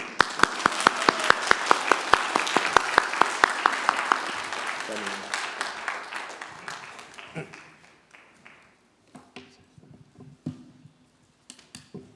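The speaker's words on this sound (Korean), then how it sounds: "Let's give him a big round of applause" A church congregation applauds to welcome a guest pastor, starting as a lively burst of many hands and gradually thinning into scattered individual claps that trail off into near silence.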